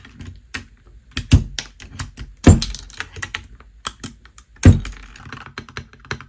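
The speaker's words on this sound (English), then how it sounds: "It is a thocky type of keyboard." Keystrokes on a NuPhy Halo65 mechanical keyboard with a deep, thocky tone, a close run of irregular taps with a few heavier clacks standing out, no talking over them.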